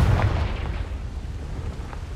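A Confringo blasting spell detonates in Hogwarts Legacy, a loud, deep rumbling boom that rolls on for a couple of seconds with no voices over it.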